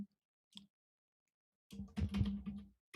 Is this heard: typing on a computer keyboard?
yes